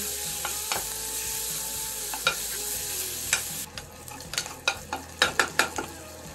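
Chicken frying in a pan gives a steady sizzle, broken by scraping stirs and sharp clinks of a utensil against the pan, growing busier toward the end with no voices.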